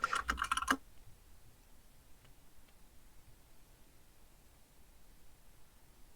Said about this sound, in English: okay, here, I'll type it